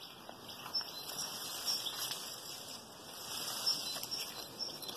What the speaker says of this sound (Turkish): Fonda kuş sesleri.